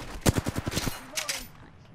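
Rapid burst of gunfire in the Apex Legends battle royale at Skulltown, about eight sharp shots in quick rhythm, close and loud, then a couple of fainter shots trailing off.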